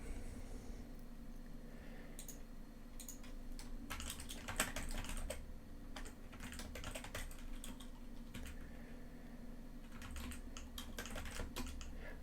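Quiet computer keyboard typing comes in short clustered bursts of keystrokes separated by pauses, close and soft over a faint steady background hum.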